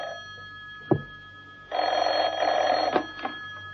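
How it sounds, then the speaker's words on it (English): Telephone in John Steed's home starting to ring, a single extended electric bell trill after a brief knock, fairly close and clear against quiet room tone. "It wasn't until the next morning that John Steed's telephone rang"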